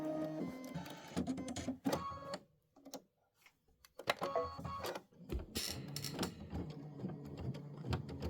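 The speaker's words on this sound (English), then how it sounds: "This is going to stitch the bird satin outline." Embroidery machine stitching a satin outline of a bird on a quilt block, with a rapid mechanical chatter in bursts that pauses briefly in the middle before resuming, close and moderately loud.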